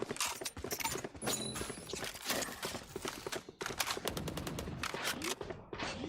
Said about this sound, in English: Here we hear gunfire.